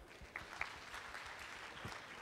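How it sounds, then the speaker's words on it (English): An audience at a main-stage event gives a faint, brief round of clapping, soft and somewhat distant, with a slight swell near the start before it thins out. "Let's give a round of applause"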